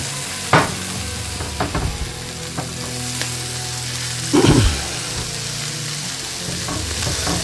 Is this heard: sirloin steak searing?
yes